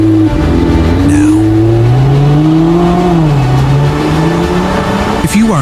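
A car engine revving loud and close, its pitch climbing and wavering with a brief tire squeal, while a voice talks over it.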